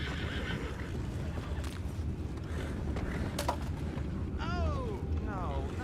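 Horses whinny in Red Dead Redemption 2, with a couple of rising and falling neighs standing out near the end over a steady outdoor ambience of clopping hooves and a background hum.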